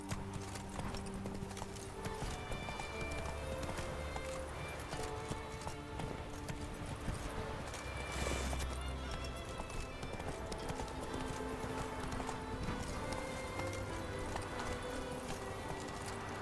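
Roach, Geralt's horse in The Witcher 3, gallops steadily with continuous rhythmic clip-clop hoofbeats under game music and ambience, loud and close throughout.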